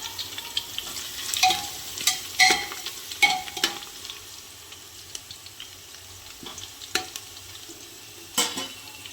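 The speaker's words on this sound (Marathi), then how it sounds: "आता हे मसाला द्यायचा आपण भाजून" Masala with onion, ginger and garlic roasts in a pan for chicken biryani, a soft steady sizzle broken by irregular scraping stirs of a spoon against the pan, close and fairly quiet.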